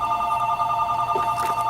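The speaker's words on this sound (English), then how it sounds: "let's hope that the phone stops ringing quickly" A phone rings in the background of a comic book review recording, a continuous tonal ring pattern, moderately loud and steady, with some faint rustling over it.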